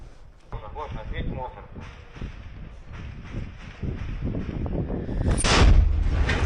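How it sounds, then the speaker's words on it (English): Artillery fire in a war zone in Ukraine, heavy booms and rumbling detonations under outdoor wind, with people talking over the noise and a louder blast near the end. "Here's some artillery Із-за coming групи in."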